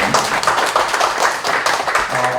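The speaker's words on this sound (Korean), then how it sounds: "박수로 한번 감사의 박수 한번 해주세요" A church congregation at a Korean revival prayer meeting claps together in thanks, a steady, rhythmic beat of many hands that stays close and even throughout.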